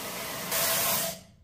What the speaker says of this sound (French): Vous avez vu comme il sonne net le bruit du sèche-cheveux